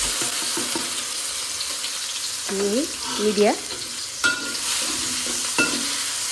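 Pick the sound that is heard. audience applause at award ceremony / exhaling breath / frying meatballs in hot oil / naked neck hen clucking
frying meatballs in hot oil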